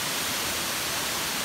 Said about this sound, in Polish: Gdzie leci wodospad?